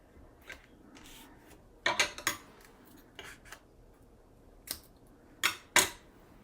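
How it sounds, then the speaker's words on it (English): Scissors cut through card paper in a quiet room, giving short, crisp snips in scattered pairs and small bursts separated by pauses, close up with no talking. "please be careful when you're using scissors"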